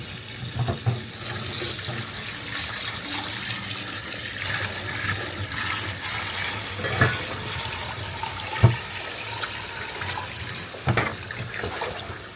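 Water running from a faucet into a kitchen sink in an apartment, a steady continuous rush filling the basin during drain clearing work, with a few brief clunks and knocks over the flow.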